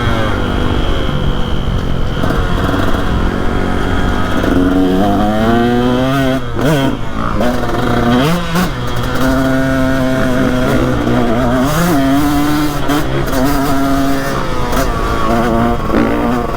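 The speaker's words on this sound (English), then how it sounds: "We got Tyler on his KX 250 and then Pops on his brand new first ride on it, Beta 480." A 2021 Beta 480 RR and a KX 250 dirt bike ride a West Virginia trail, engines droning loud and close throughout, rising and falling in pitch as the riders rev and shift, with no talk.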